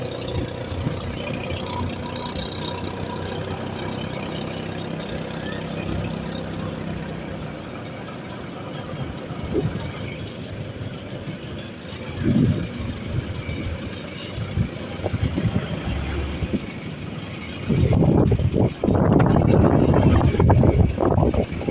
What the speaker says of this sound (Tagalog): Halos lahat ng mga bangka luwapit na sila dyan sa Bangpang.